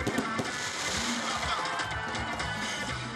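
Fireworks crackle and pop at a stadium show in Toumodi, a dense stream of bursts and sputters with crowd noise mixed through it.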